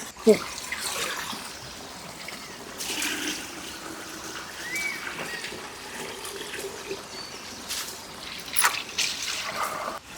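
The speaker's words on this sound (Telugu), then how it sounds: "ఈ ఊట జలకి ఇలాగ చిన్న గొట్టం పెట్టుకున్నారనమాట" Spring water trickles steadily from a small pipe in a thin, continuous stream, with soft outdoor background noise around it, in the Maredumilli forest.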